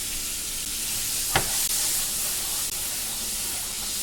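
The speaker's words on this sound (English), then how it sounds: "I'm gonna add in my butter." Butter sizzles in a pan preheated about eight minutes on medium-high heat for a beef stew, giving a steady close hiss with one sharp clack early on.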